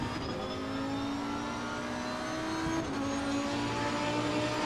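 Steady race car engine drone from a racing simulator driven with a Fanatec CSL DD wheel, holding a continuous, fairly loud tone with gentle pitch shifts as the throttle is feathered, no voices present.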